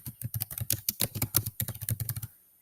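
Rapid, fairly loud keystrokes tapped out on a computer keyboard for a little over two seconds, ending in silence.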